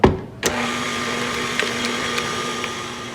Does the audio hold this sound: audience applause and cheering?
no